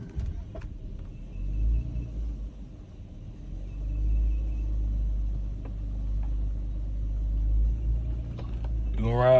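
A Chrysler 300 with a cracked thermostat repaired rolls around the block, its engine a steady low rumble throughout and a voice briefly speaking near the end.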